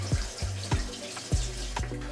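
Shrimp are rinsed under running tap water in a kitchen, giving a soft splashing stream broken by several short bursts as the shrimp pass through the flow, with no talk.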